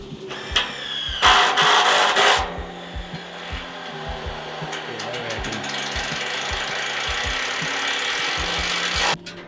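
Power drill driving screws into VersaTube metal eave corners, with bursts of whirring motor and a few sharp metallic clanks, close and loud.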